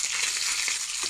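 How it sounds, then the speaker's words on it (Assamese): An egg fries in a pan with a constant, close, bright sizzle and crackle that stays steady and even from start to finish. "তাৰপাছত ভালকৈ কণীটো অলপ ফ্ৰাই কৰিব"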